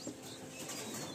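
A Madrasi pigeon from a Kolkata loft beats its wings in flight, giving a brief, faint, airy flutter with no voices.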